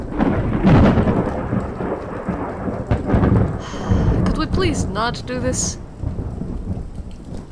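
Thunder rolls and rain falls heavily in a video game, a loud, dense rumble and patter that carries on under a person's speech.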